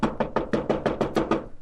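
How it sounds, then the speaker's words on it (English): Eight evenly spaced heavy knocks pound on a pawnbroker's shop door in a crowded East Side tenement neighbourhood, close and loud in a quick insistent rhythm, with no voices. "another sleeper is aroused by a pounding on the door this time"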